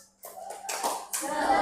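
A school class does a rhythmic spirit-clap chant together, with short bursts of clapping mixed with children's voices calling out in unison. The sound is close and lively, rising in a few quick waves.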